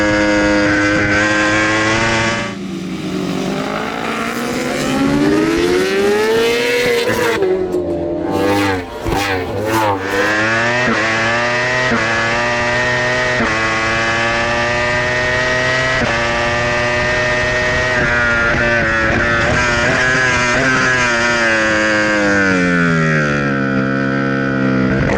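A racing motorcycle engine held at full throttle, loud and close, its pitch sweeping up and down through gear changes with a brief break in the middle before climbing hard again.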